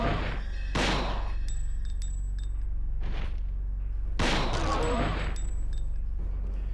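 Gun blasts in the video game Dino Crisis: four heavy, booming shots spaced a second or more apart, each loud and close with a short ringing tail, over a steady low hum.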